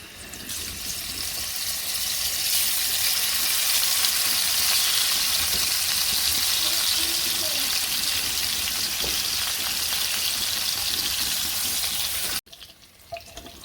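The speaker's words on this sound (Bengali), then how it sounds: "তেল হয়েছে মাছটা দিই" Fish fries in hot oil in a pan, a loud continuous close sizzle and crackle that runs steadily before cutting off near the end.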